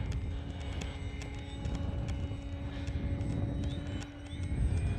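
A Sig Kadet radio-controlled model airplane in flight, its engine droning steadily at middling distance with a rough, continuous buzz that swells slightly toward the end, alone without talk.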